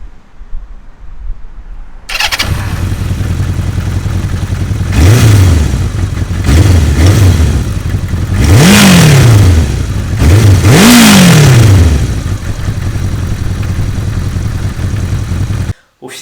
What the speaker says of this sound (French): Donc on n'a pas le son des moteurs de moto étouffés d'aujourd'hui, on a vraiment un son pur, on va dire.